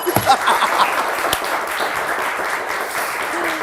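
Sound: applause

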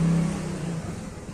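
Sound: car turning around and driving outside

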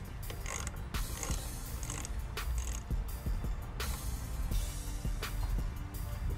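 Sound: 10 mm socket and ratchet loosening Jeep battery terminal

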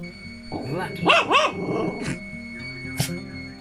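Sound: dog barking

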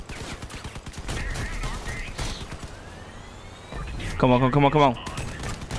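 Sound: shotgun gunfire in the video game Crossout

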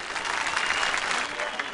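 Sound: audience applause welcoming a singer

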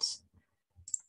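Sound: computer mouse double click

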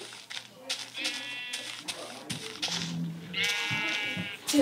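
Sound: sheep bleating

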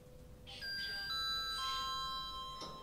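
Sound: elevator gong chime in a video game

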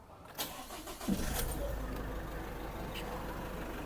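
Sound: Isuzu D-MAX Hi-Lander 1.9 diesel engine starting with remote key

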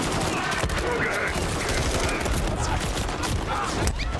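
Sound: gunfire shooting civilians in video game Call of Duty MW3

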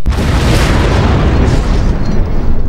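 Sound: explosion

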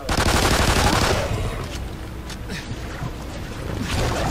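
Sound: turret gunfire in video game MAYDAY Extinction

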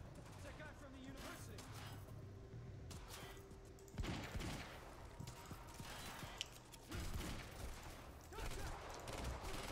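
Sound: fully automatic gun firing in video game Quantum Break

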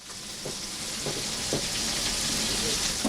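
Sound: floured liver frying in hot oil, Edirne tava ciğeri

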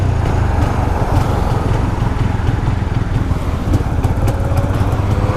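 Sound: motorcycle engine revving

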